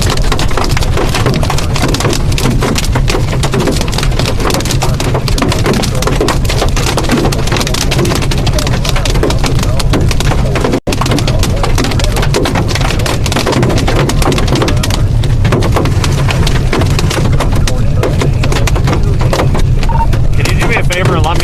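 Large hail pounding a storm chaser's vehicle during a thunderstorm, a dense, loud, unbroken roar of impacts on the body and roof lasting throughout with only a momentary break.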